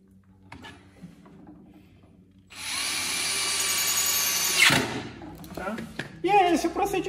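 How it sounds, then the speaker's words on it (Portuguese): A power drill bores and countersinks into a honeycomb-style shelf, a loud steady whine of about two seconds that winds down, followed by shorter bursts of screw driving, with a person speaking around it. "Furei. Escariei. E parafusinho nele."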